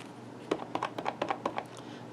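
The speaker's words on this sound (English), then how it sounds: "I'm just going to start stamping." Rubber stamps pressed onto paper while making greeting cards, giving a series of about eight quick, sharp taps in an irregular rhythm, close up and alone.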